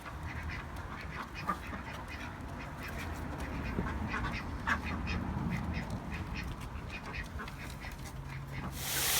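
A flock of ducks quacking continuously nearby, many overlapping calls in a busy chatter with no talking.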